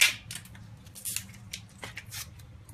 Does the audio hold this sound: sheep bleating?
no